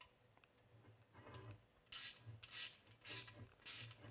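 Ratcheting Allen wrench tightening a bolt on a superstructure assembly, giving four short bursts of raspy clicking around two to four seconds, close and fairly loud, over a quiet low hum.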